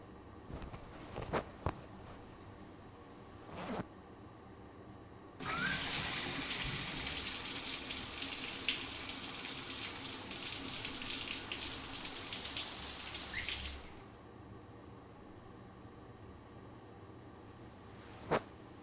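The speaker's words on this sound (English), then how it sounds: "Task 2, please take a shower." In a psychological horror video game, a shower bursts on and gushes water steadily for about eight seconds before shutting off, with quieter clicks and small splashes before and after, no talking.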